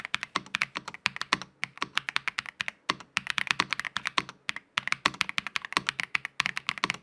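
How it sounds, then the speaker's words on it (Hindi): Rapid, crisp typing on an Ajazz AK820 Pro wireless mechanical keyboard, close up, with quick bursts of keystrokes broken by brief pauses. "एक 6000 रुपए का वायरलेस मैकेनिकल कीबोर्ड। और भाई साहब आप एक बार इसका साउंड तो सुनो।"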